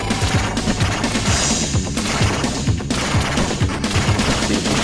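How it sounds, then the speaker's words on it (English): Laser weapon firing nonstop in the video game Mega Turrican makes a dense, loud rapid burst of zapping shots mixed with explosive game effects, steady throughout and with no talking. "The laser is probably one of the best weapons in the game."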